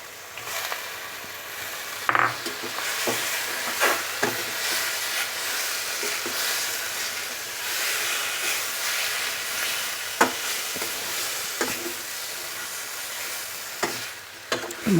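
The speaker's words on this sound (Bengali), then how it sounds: "মশলাটা ভালোভাবে মিশিয়ে নিচ্ছি" Chicken stir-fried in cooked spice paste in a pan for a Bengali curry: continuous close sizzling with intermittent spatula scrapes and clacks against the pan, no speech.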